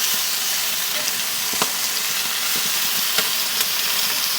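Chicken wings sizzle on a grill, a dense even hiss of frying fat that holds steady throughout, with a few faint ticks and pops.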